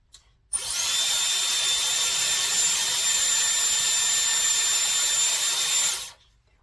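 A Dyson Airwrap blowing hot and then cold air onto short bob-length hair, a steady high whooshing roar that runs close and loud for about five and a half seconds and then cuts off.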